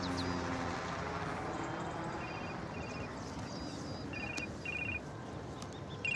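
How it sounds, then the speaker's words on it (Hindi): A telephone rings in a scene from the 2016 Hindi film Pink, two pairs of short electronic trills, fairly faint beneath a steady background hum. "पलक का फोन उठाऊं?"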